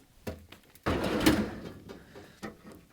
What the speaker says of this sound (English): now you can see it's a lot easier to pull the drawer out